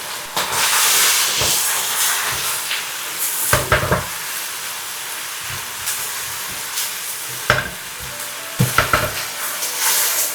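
Cabbage, chicken and green onion leaves stir-fried over high heat in a wok, a steady loud sizzling hiss broken by several sharp scraping clatters of the spatula, with no talk.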